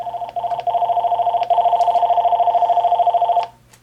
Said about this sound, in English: let's go ahead and test it, both the handset ringing and the bass ringer at the same time